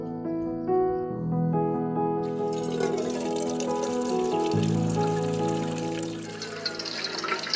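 A few seconds in, a steady stream of filtered lake water starts pouring and keeps going, over a soft, sustained tonal background.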